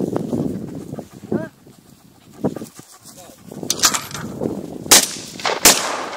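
Sharp gunshots crack out in the second half, a few loud reports close by, over outdoor ambience with animal sounds and voices earlier on.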